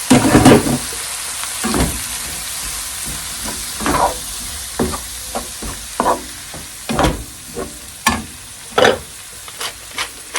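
Ripe, in-season tomatoes sizzle loudly in a frying pan, with a steady hiss broken by repeated bursts of stirring and scraping that come every second or so; no voices are heard.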